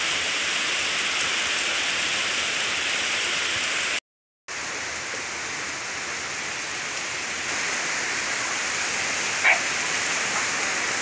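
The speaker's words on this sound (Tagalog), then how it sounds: "lumalakas na yung ulan." Steady rain falling on the ground where chickens are kept, a dense even hiss that grows slightly louder toward the end, broken by a brief silent gap.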